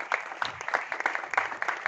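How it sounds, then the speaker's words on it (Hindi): Scattered hand claps at a press conference for a singer's debut album launch, a modest audience applauding in quick uneven bursts at moderate distance, fairly quiet overall. "तालियां एक बार।"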